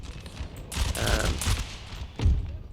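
Musket volleys in the Empire: Total War battle game, a dense crackling fusillade of many shots rolling together, with a heavier burst of fire near the end; no voices.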